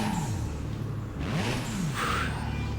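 Honda engines rev hard in the Burnout Paradise racing game, a steady loud roar with rising and falling pitch sweeps as the car accelerates through gears, continuous for about three seconds.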